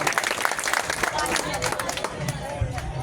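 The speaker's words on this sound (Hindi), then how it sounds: "मैं इस कवि सम्मेलन के शुभारंभ की तालियां चाहता हूं" Audience applause opening a Hindi poetry gathering, a state-level kavi sammelan in Vijayraghavgarh, as a dense, steady crackle of many hands across the whole stretch, with crowd murmur mixed in.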